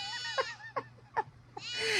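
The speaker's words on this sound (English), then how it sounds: "it's been about 20 minutes since the goats have been out in their area on their own. And can you hear them?" Goats on a farm, let out in their pen, bleat in several short, loud calls spaced through the moment, with a longer cry rising at the end and steady low background hum.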